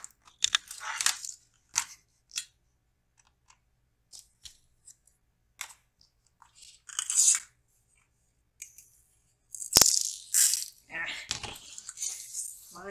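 Small beads rattle and clink in a bead spinner bowl in brief, scattered bursts separated by silent gaps, loudest and densest near the end.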